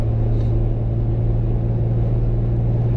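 A Hudson Hornet cruising at traffic speed gives a steady, loud engine rumble with road noise, even and unbroken throughout, with no talking.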